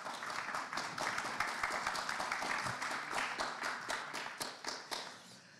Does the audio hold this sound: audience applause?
yes